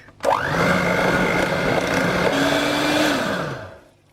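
An electric hand whisk whips chocolate whipped cream for a low-carb no-churn chocolate ice cream, and its steady motor whine runs loud and close for about three seconds. The pitch dips briefly near the end before the whisk winds down to a stop.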